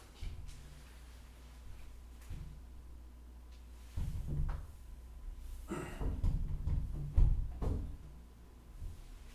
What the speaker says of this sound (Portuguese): bate um vento aqui no corredor e a porta fica balançando, fica um barulho chato